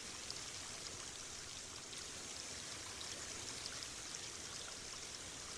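Water cascades spill over shell-adorned filigree rockwork in an outdoor amphitheater grove of the Versailles gardens, giving a steady, even rush of falling water with no voices and no breaks.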